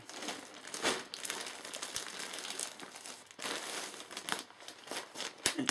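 Plastic wrapping on a yarn package crinkles and rustles continuously as it is pulled open by hand, close and fairly loud with irregular sharp crackles.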